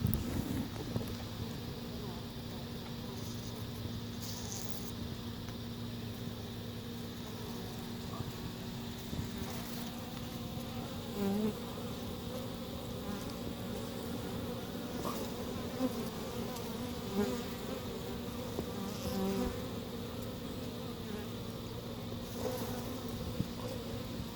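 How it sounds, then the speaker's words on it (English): Many honey bees buzz at a hive in a dense, steady drone that continues throughout, with faint background handling noises. "I try to be as careful as I can not to hurt any of the bees"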